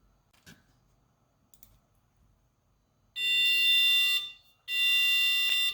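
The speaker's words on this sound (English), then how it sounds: "you can hear that 400 hertz tone being emitted from the speaker" Steady 400 hertz tone from a small speaker wired to a Black Pill microcontroller board, sounding as two loud, harsh buzzing blasts of about a second each after a few faint clicks.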